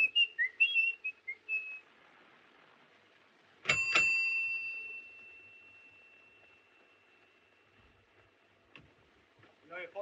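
A short whistled tune of a few clear notes from the 1931 film M, then a sharp ringing doorbell strike that lingers and fades, with faint sounds near the end.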